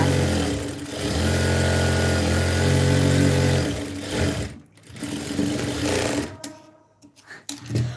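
A sewing machine stitches a dress in a steady mechanical whir that runs for several seconds. It stops briefly, then starts again in short, uneven bursts.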